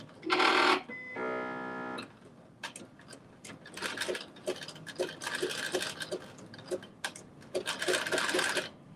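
A sewing machine runs a zigzag stitch through fabric in short bursts of fast mechanical whirring, separated by brief pauses with small clicks and fabric handling close by.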